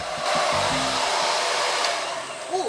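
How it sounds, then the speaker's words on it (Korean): A 1600-watt hair dryer running in a campsite's individual shower room, a loud, steady blowing whir that holds evenly throughout with no talk. "캠핑장에서 1600와트 드라이기라니."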